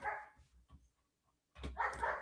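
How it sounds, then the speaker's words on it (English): Dog barking nearby in a home setting, a few loud bursts at the start and again near the end with quieter yips between and a short gap of silence. "I might have to do something about that dog."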